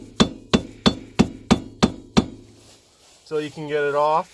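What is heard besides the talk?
screwdriver tapped to remove Honda Civic wheel hub dust cap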